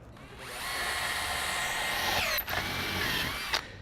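A power drill runs steadily into an Equitone fibre-cement facade panel, a continuous whining drone lasting several seconds, close and loud, with brief dips where the bit catches or eases, and no talk.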